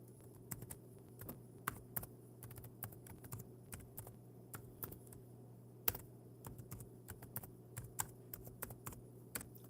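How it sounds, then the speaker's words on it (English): Someone types steadily on a computer keyboard during a live stream, giving quiet, close, rapid key clicks in an uneven rhythm over a low background hum, with no voices. "So let me type in hello,"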